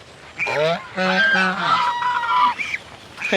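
Domestic ducks or geese give several loud, nasal honks close by, in short bursts with brief pauses between them.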